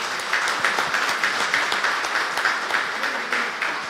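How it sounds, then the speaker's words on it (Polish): Audience at a book launch applauds continuously, a dense, steady wash of many hands clapping at an even level throughout. "Jeszcze raz wielkie brawa"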